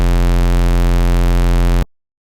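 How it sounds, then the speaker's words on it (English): A Prophet 5 synthesizer sounds a low F1 with a square wave, a loud, buzzy, steady tone held for nearly two seconds before cutting off sharply. "The upper half of the screen shows the Prophet's waveform playing an F1 on a square wave"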